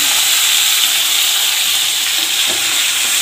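Spice paste with bay leaf and cinnamon frying in hot oil, giving a steady, loud, broadband sizzle that runs unbroken throughout, with a faint stir or scrape near the end and no voice.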